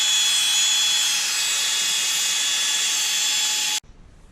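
A Bosch 10.8V cordless multitool runs at top speed, a loud steady high-pitched buzzing whine held for nearly four seconds before cutting off abruptly into quiet room noise.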